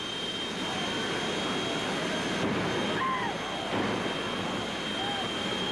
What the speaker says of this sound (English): It's a literal jet, and the thing will just go off like a rocket.